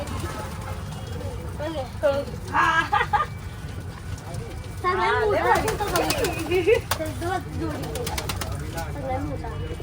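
Domestic pigeons coo and flutter in bursts close by, their soft throaty calls mixing with several people chatting over them.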